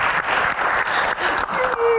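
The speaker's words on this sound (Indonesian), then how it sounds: "Tepuk tangan yang paling meriah dong buat Gian." An audience at a Q&A event applauds steadily with dense clapping throughout, loud and close.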